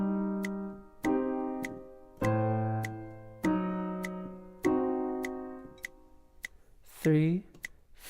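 Metronome set to 50 BPM ticks with sharp, evenly spaced clicks about every 1.2 seconds, while sustained piano notes from the opening bars of Chopin's Nocturne Op. 9 No. 2 sound over it, and a brief voice comes in near the end.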